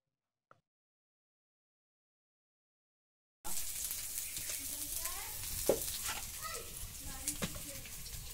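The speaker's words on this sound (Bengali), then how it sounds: "আর কড়াইতে হচ্ছে আলু আর বেগুন ভাজা সর্ষে দিয়ে" Potato and eggplant frying with mustard in a wok: after a few seconds of silence, a steady sizzle starts with occasional stirring clatter, and people talk over it.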